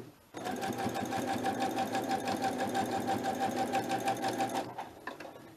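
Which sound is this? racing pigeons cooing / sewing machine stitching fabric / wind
sewing machine stitching fabric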